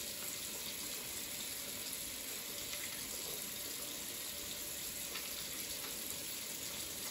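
Tap water running steadily into a sink during hand washing, a continuous even gush with faint rubbing and splashing underneath.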